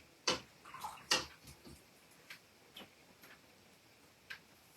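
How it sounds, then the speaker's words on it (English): Watercolor brush swished and tapped in a container of clear water, a few quiet, close splashy clicks spread apart with short gaps, faint and without talk. "Rinsing that brush, clear water,"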